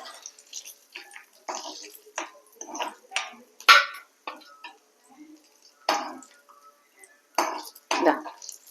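Fried onions being scooped from a pan of ghee while making ghee rice give a series of separate metal clinks and scrapes of a spoon against the pan, close and irregular, with quiet gaps between.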